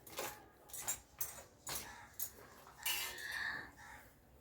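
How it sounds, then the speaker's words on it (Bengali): A kitchen knife slicing a large whole cabbage in half on a cutting board, with a few crisp crunching cuts and scraping strokes, close and moderately quiet. "বাঁধাকপিটাকে আমি অর্ধেক করে কেটে নিচ্ছি"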